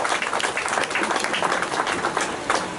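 Dense, steady applause from an audience at a ceremony welcoming a high court judge and his wife to the stage, filling the space evenly from start to finish.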